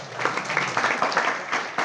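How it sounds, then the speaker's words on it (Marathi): Audience clapping at a youth job-training gathering in Jalna, a steady dense patter of many hands rising and falling in waves over a couple of seconds. "तुम्ही जोरदार टाळ्या वाजवा"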